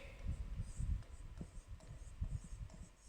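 Chalk or marker scratching and tapping on a classroom board in short strokes and taps, quiet and close, with no talking.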